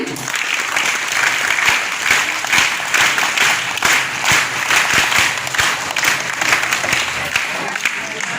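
Schoolchildren at a dyslexia awareness program clap together, loud, sustained group applause with some sharper individual claps standing out, lasting around eight seconds.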